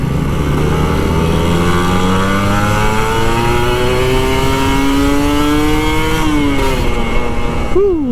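A Kawasaki Ninja RR 150 two-stroke motorcycle ridden in traffic, its engine loud and close as it revs up through rising tones, then drops off sharply near the end as the rider brakes.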